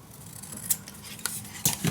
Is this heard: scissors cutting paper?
yes